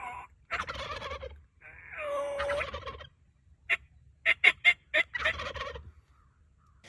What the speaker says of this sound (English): Jakes are what young male turkeys are called.